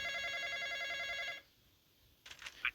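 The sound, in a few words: telephone ringing in a horror video game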